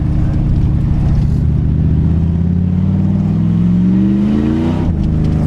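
The 4.0 V8 of a 1984 TVR Wild Wedge roars loud and close on a wet winter road, holding a deep, throbbing rumble that climbs in pitch as it revs, then dips near the end.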